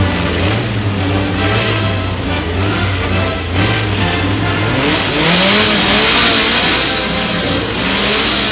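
Several race car engines rev and accelerate at a starting grid before a main event, loud and continuous, with rising and falling engine pitches overlapping and a brief tire squeal under the roar.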